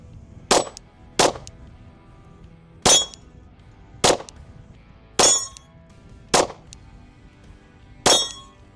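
Gunshots ringing off steel smiley targets outdoors: seven sharp metallic clangs spaced irregularly about a second apart, each bright and ringing briefly, with no talk.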